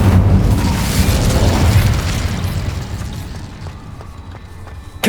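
A fiery Incendio spell from the video game Hogwarts Legacy lands with a loud, whooshing boom up close, then rumbles and crackles as it slowly dies away, a sharp pop closing it out.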